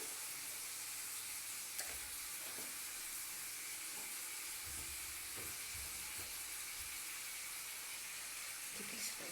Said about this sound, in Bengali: এটা একটু ভেজে নিতে হবে, যাতে পেঁয়াজের কোনো কাঁচা গন্ধ না আসে।